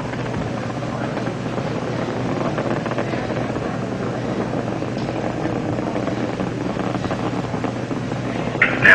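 Space Shuttle Challenger's main engines throttle down to 65% during the STS-51F Spacelab 2 launch, making a continuous broadband roar that stays loud and steady throughout, heard over a radio broadcast feed.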